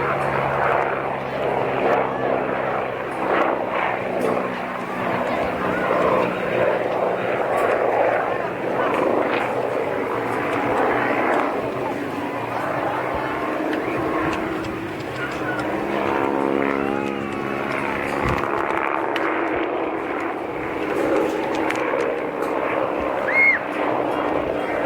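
A retired Royal Navy helicopter of about 700 shaft horsepower flies at the Swansea air show, its rotor and turbine drone steady and moderately distant beneath continuous commentary over the public address.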